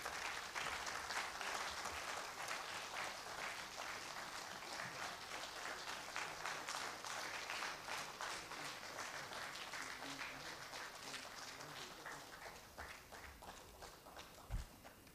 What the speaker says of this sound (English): I think he deserves a better round of applause